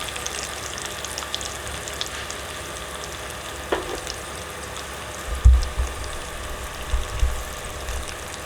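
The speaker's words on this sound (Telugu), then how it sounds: "పోపు చేసేటప్పుడు మాత్రం స్టవ్ చిన్నగా పెట్టుకోండి" Spices tempering in hot oil over a low flame for a potato curry, a faint, steady crackling sizzle with a few low thumps near the end, no voices.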